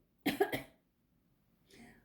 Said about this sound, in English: Because I coughed